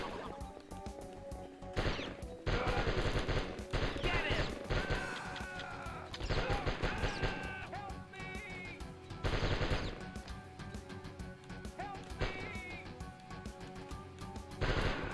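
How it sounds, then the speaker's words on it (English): Rapid machine gun fire in a retro video game, a player's default gun firing like a machine gun: loud dense repeated bursts with brief gaps, mixed with crashing hits and chiptune-like tones. "now my default gun's like a machine gun"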